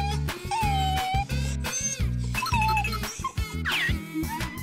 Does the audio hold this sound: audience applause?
no